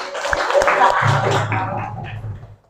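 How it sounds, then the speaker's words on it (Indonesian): Brief applause from a school group for the prize winners of a class Olympics game, a burst of clapping mixed with voices that fades out after about two seconds. "Tepuk tangan"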